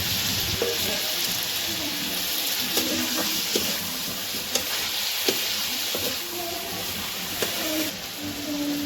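Chicken and potatoes frying in a pan for a chicken curry, a steady loud sizzle broken by scattered clicks and scrapes of stirring.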